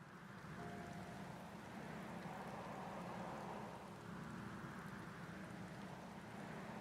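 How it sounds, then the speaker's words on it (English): Steady rainfall in Final Fantasy XIV: Endwalker, a soft even hiss of drops that fills the scene without pause, heard faintly and alone with no voices. "Game decided to say, yeah, let's just put rain at the most iconic points in the story"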